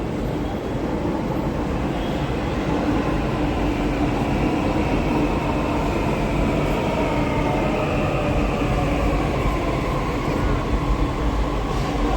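A steady, loud rumble of a Delhi Metro train running past near Delhi University's North Campus, with broadband rail noise holding constant throughout and no clear pauses.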